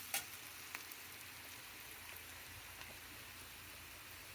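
Eggplant (seema vankaya) frying in a pan, a steady, faint sizzle with soft crackles and a few small pops, continuous throughout with no talking.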